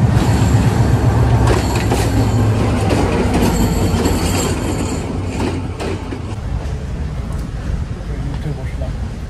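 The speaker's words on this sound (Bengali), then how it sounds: "একটু পরে আমাদের ট্রেন চলে আসবে আর আমি ট্রেনে উঠে যাবো" A train pulls into a railway station in Sri Lanka, its heavy rumble and clanking wheels loud at first and easing slightly as it slows, with people talking over the noise.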